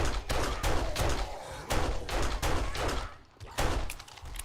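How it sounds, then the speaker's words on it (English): A level 1 pistol fires repeatedly in the video game 7 Days to Die, giving a fast run of sharp, close gunshots with brief gaps between bursts. "All this with a level 1 pistol"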